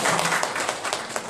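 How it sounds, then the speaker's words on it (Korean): An audience at a Korean internet governance forum workshop claps for a panelist introduction, a dense, steady burst of applause at moderate volume. "박수"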